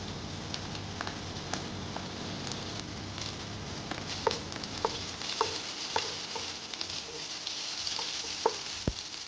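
Garlic sizzles in hot olive oil in a pan, a soft steady frying hiss dotted with small crackles and pops, quiet and close with no talking.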